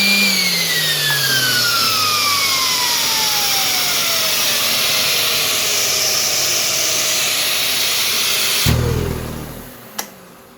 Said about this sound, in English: you have to wait for the sander to stop before you can let go of it